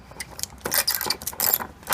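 Ratchet tightening small Loctite-coated bolts on a satellite dish mount on the roof of a Roadtrek Simplicity motorhome, heard as a close series of quick metallic clicks in uneven bursts.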